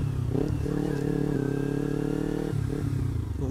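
A Kawasaki Ninja 250 motorcycle without a dB killer runs close by with a steady engine drone, its pitch sliding and dipping around a gear change midway before settling back.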